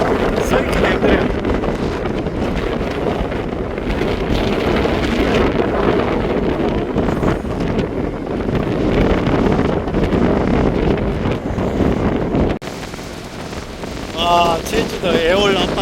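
Strong wind batters the microphone on the Aewol coast of Jeju during a gale warning, with high waves crashing in a loud, continuous roar that drops off near the end as a few brief voice fragments surface.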